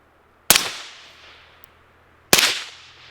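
Two suppressed pistol shots from a KelTec P50 fitted with a YHM Turbo K suppressor, each a sharp close crack with a short hissing tail, spaced nearly two seconds apart.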